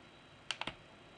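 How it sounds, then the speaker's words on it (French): Ctrl+A pressed on a computer keyboard, three quick, crisp key clicks in close succession, faint against a quiet room background, with no one speaking. "je vais faire CTRL A pour tous les sélectionner"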